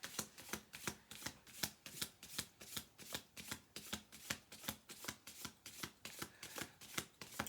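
A deck of cards being shuffled, with a steady run of crisp riffling bursts in an even rhythm, close and soft, with no talking.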